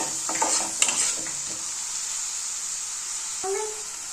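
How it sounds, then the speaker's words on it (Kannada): Tomato frying in a pan until soft, giving a steady bright sizzle with a few soft stirring scrapes early on and a brief clink near the end, heard alone at moderate level. "ಇದು ಟೊಮೆಟೊ ಸ್ವಲ್ಪ ಸಾಫ್ಟ್ ಆಗಬೇಕು, ಅಲ್ಲಿವರೆಗೂ ಇದನ್ನು ನಾವು ಫ್ರೈ ಮಾಡ್ಕೋಬೇಕು"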